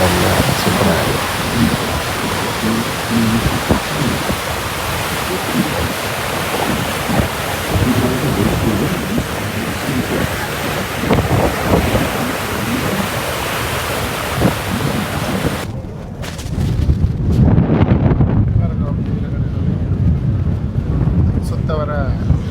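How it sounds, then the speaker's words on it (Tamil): Strong wind at sea buffeting a boat among the Thousand Islands in Canada, a loud continuous roar of gusts and rushing water that drops briefly near the end before surging again. "காற்றின் சத்தம் உங்களுக்கு இதில் கேட்குமென்று நினைக்கிறேன்"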